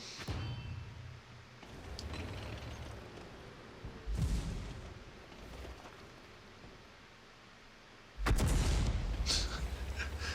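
Tank cannon fire in the online game World of Tanks, with a heavy boom near the start and another around four seconds, then a loud burst of gunfire and blasts near the end over a low battle rumble.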